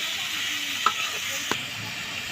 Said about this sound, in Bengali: এই যে হালকা করে ভাজা নিচ্ছি